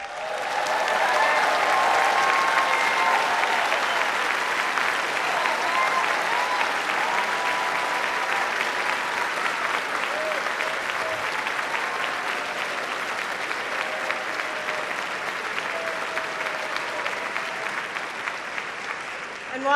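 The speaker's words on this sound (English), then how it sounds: "let's give them all a round of applause" Sustained applause from a large audience at the White House Correspondents' Dinner greets standing students, a dense wash of clapping that swells early and holds steady for about twenty seconds.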